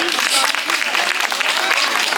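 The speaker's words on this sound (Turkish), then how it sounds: "Alkışlar gelsin efendim." Audience applause at a 23 April children's festival celebration at Ruhrstation in Mülheim an der Ruhr, with steady clapping from the crowd and a voice over it.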